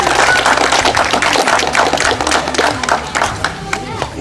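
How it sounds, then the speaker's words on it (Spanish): Clapping from an audience at a charity telethon in San Carlos, uneven and fairly loud with distinct individual hand claps, and voices and shouts mingling in the background. "Fuertes aplausos para la quinta cuadrilla."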